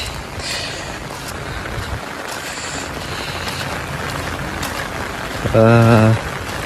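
Steady rain falls on a rural home throughout a long wet day, making a dense, even hiss that runs the whole time, with a short, louder tonal sound breaking in near the end.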